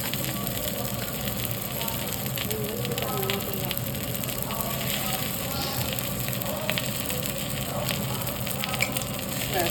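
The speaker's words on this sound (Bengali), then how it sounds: "ওইটুকু তেলের মধ্যে জাস্ট জিরেটা দিয়ে দেবে।" Cumin seeds sizzling in a small amount of hot frying oil, a dense, even crackle that holds steady and fairly loud throughout, with people talking over it at times.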